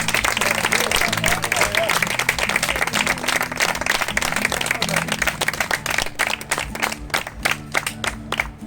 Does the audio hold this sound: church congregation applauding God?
yes